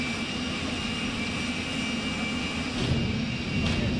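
Jet engine of a street-driven jet-powered car, the petrol engine disengaged, roaring as a loud steady broadband whine with a high tonal edge that swells briefly near the end.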